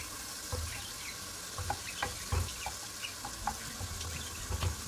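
Onions sautéing in a pan with oil for a Turkish eggplant dish: a soft, steady frying hiss with scattered light clicks and taps of utensils, fairly quiet and close.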